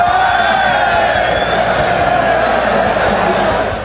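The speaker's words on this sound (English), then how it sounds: "as you can hear, the audience just brings a whole level of energy" Loud, dense roar of an arena crowd cheering and whooping at a 2014 EU LCS Summer Split League of Legends match, sustained and steady throughout with no pause.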